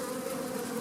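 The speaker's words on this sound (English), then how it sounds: "you can see that there's a couple of bees beating their wings and probably throwing some pheromones out" Honeybees at a hive fanning their wings, producing a steady close-up drone with no pauses.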